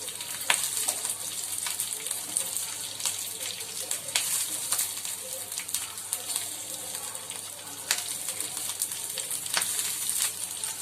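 Washed green chillies hit hot oil in a home kitchen pan with a continuous loud sizzle and crackle, plus scattered small pops and stirring sounds, close up and without speech.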